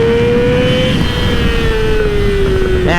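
A Yamaha R6 sport bike's engine is revved out on the road, a loud high-pitched whine that holds and slowly sags in pitch before a brief burst near the end.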